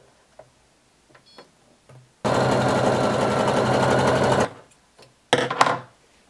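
A sewing machine stitches the side seams of a swimsuit in one steady two-second run, close and clear, framed by quiet fabric handling and a short second burst near the end.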